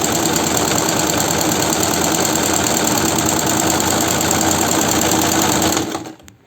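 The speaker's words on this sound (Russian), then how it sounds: "машинка зигзаг уже шьет, никаких ударов посторонних нету" A Chaika 143A sewing machine stitches zigzag after a repair for the needle striking the hook. Its steady, loud, close mechanical whir runs without a break for about six seconds, then stops abruptly.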